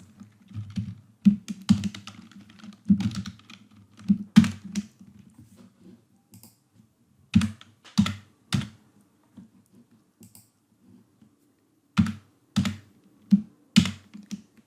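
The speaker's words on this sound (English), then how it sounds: "I'm just going to type it in" Keystrokes on a computer keyboard while a formula is typed, arriving in quick bursts of close, crisp clicks separated by short pauses.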